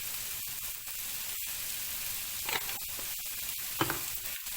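Vegetables frying in a pan for wheat noodles, a soft steady hiss of sizzling with scattered light clicks and scrapes of stirring, fairly quiet and without voices.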